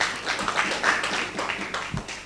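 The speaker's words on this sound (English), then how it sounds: "Let's give him a warm round of applause." An audience at a Rotary District 9212 conference gives a moderate round of applause, a steady clapping wash heard from a little distance and without voices over it.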